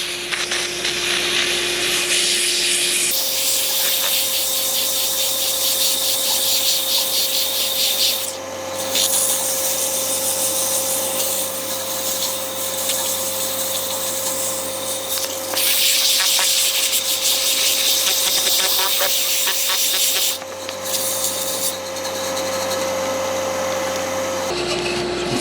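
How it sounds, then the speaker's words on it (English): Steady, loud sanding of a wooden Christmas sphere ornament on a lathe, worked through progressively finer sandpaper grits, with a continuous abrasive hiss and a motor hum that briefly dips and swells between passes; no talking. "So the next step would be to sand this outside"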